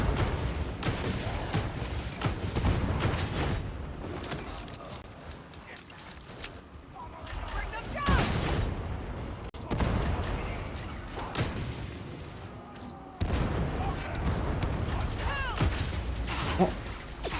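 Shotgun blasts ring out in a video game firefight, a rapid scatter of sharp, loud reports with mechanical clatter between bursts, rising and falling in clusters over the whole span.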